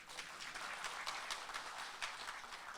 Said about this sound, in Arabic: صفقوا عليه